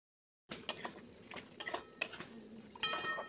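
Grated paneer and capsicum mixture stirred in a pan, giving close, irregular metallic clinks and scrapes of a utensil against the pan over a soft sizzling background, with a few sharper knocks spaced through.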